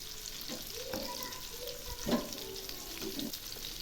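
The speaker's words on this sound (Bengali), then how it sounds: "তেল গরম হয়ে গেছে, এখন আমি চিংড়িগুলো ছেড়ে দিচ্ছি। এগুলি নেড়ে দিচ্ছি" Shrimp fry in hot oil in a kadai with a continuous sizzle and intermittent scraping as they are stirred, close and moderately loud.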